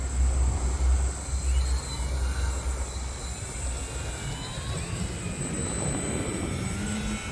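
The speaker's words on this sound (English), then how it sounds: "Let's go one click on the flaps for this takeoff" An Arrows Husky radio-controlled model airplane takes off with one notch of flaps, its electric motor whining steadily at a distance under a strong low rumble, with no talking.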